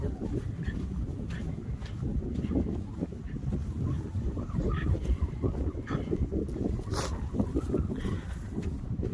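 Strong wind at Aspnäs Nature Park buffets the microphone in a dense, continuous low rumble with gusty surges. A voice speaks briefly, and faint rustles come through the roar.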